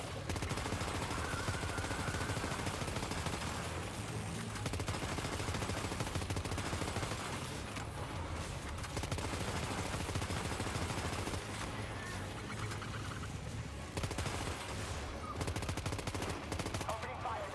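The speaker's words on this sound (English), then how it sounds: "Opening fire now." Gunfire in the video game Death Stranding 2, a dense, continuous barrage of rapid shots and bursts running throughout over a loud, busy battle mix, with faint voices now and then.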